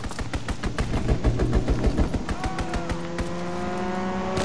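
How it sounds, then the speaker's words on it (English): Aircraft strafing run in the World War II shooter Call of Duty WWII multiplayer: a rapid, loud burst of cannon and machine-gun fire with sharp repeated reports, giving way to a sustained engine drone and whine that lingers. "Fighter pilot inbound. Strafing the target."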